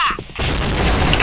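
A grenade goes off in the Point Blank shooter game, a loud, sudden blast that swells into a sustained rumbling roar and fills the rest of the moment at close range.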